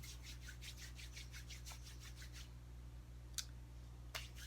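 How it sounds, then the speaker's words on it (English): Hands rub a drop of thick skincare product between the palms, giving a quick series of soft, rhythmic swishes that then stop, faint and close over a low steady hum, with two small taps afterward. "I take a drop, rub it into my palm"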